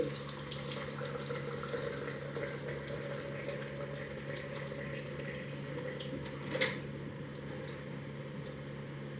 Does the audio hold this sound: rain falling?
no